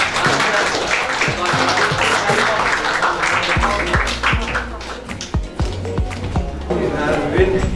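Audience at a school award ceremony claps in a dense burst of applause that thins into scattered individual claps, with a voice speaking over it.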